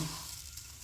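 Cumin and mustard seeds sizzling in hot oil for a Kolhapuri kat vada, a brief, steady hiss close by.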